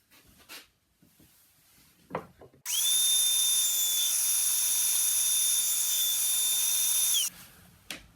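A power tool gouges a groove during a terrarium build, a loud, steady high-pitched whine lasting about four and a half seconds, with faint handling knocks and rustles before and after.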